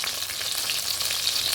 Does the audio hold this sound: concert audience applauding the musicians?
no